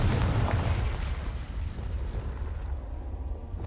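A Confringo spell explosion in Hogwarts Legacy, a single loud, rumbling blast with a deep low boom that decays into a broad, noisy roar.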